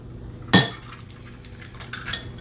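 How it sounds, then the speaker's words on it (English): Eggs are cracked into a bowl for a three-egg omelet, a single sharp crack followed by softer clinks and taps against the bowl, close and clear with no talking. "into that same bowl, we're gonna crack our eggs"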